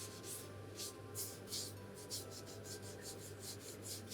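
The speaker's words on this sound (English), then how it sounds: "if you don't mind rubbing your hands over it, do that, as I said, to make it nice and glossy" Hands rub over the smooth icing on a Christmas cake to make it glossy, giving soft repeated swishing strokes in a steady back-and-forth rhythm, close and quiet over a low hum.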